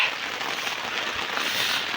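Rain falls steadily as a soft, continuous broadband hiss during freshwater fishing outdoors, evenly loud across the whole moment with no voices.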